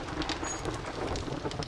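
Rumbling thunder with rain-like crackle from a storm in the survival video game 7 Days to Die, faint and steady over a short stretch with no talk.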